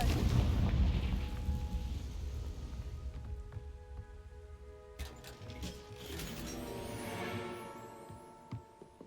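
A Confringo blasting spell explosion in Hogwarts Legacy: a deep rumbling boom that decays over several seconds, followed by scattered smaller cracks and debris hits amid a faint musical background.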